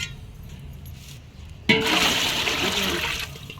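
Faint background noise, then water suddenly gushes and pours steadily into a large cooking pot with a loud rushing splash until the end.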